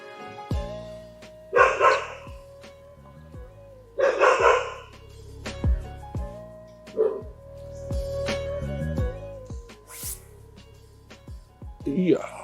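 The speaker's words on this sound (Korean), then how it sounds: "오늘 짖는 거 처음 봅니다." Two big white Jindo dogs at a fishing pond bark in loud repeated bursts, with a steady hum underneath and someone talking between the barks.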